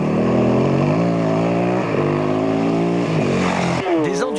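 Honda XR 650 enduro motorcycles race at a 2003 police and gendarmerie rally, their engines droning loud and steady with rising and falling pitch before a sharp change in tone near the end.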